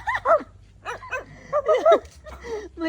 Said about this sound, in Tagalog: Tumatahol.